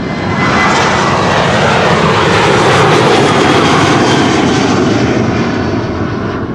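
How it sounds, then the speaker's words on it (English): A KLM Boeing 737-700 jet passes close at Schiphol during a busy run of outbound departures, a loud, broad continuous engine roar that holds steady across the whole stretch with no voices. "First up, KLM flight 1295 just now passed us by."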